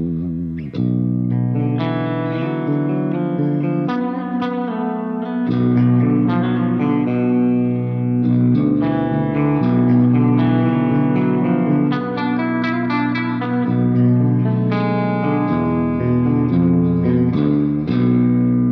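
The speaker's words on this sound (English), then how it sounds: "It's got the boost, but it's got a nice reverb on it as well." Electric guitar played through a Laney Ironheart Foundry Dualtop amp with boost and reverb, loud chugging chords and ringing notes in a continuous riff with a reverberant tail, no talking.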